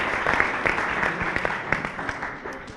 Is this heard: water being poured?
no